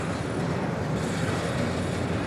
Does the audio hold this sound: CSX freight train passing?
yes